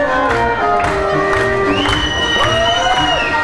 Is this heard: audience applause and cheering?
yes